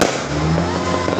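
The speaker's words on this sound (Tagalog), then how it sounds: "Ang gaganda ng fireworks sila" New Year fireworks exploding outdoors, a dense continuous roar of crackling bursts, loud and unbroken throughout.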